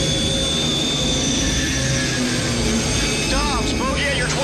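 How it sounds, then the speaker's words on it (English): Steady roar of a Scorpion military attack helicopter engine with a continuous whine, loud and close, running throughout with no pauses. "we saw the Scorpion attack helicopter"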